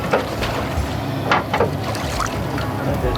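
A small boat out on open water, with steady broadband wash and wind rumble, brief splashes and a couple of faint voices in the background.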